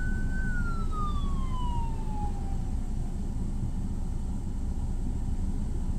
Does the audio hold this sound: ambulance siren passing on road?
yes